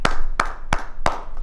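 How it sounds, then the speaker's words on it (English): Four sharp, evenly spaced hand claps ring out close and loud, one roughly every third of a second, with no talking over them. "Let's clap it up for that"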